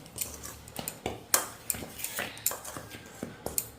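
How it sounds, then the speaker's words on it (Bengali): A spoon clinks and scrapes against a bowl while yeast is stirred into flour for pressure-cooker bread dough, giving a series of sharp, close metallic taps at an uneven rhythm with soft scraping between them. "এখন আমি এটাকে ভালো করে মিশিয়ে নেব ময়দার সঙ্গে"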